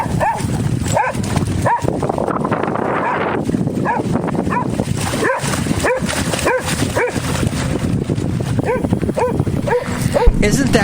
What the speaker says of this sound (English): he is barking at the waves that were crashing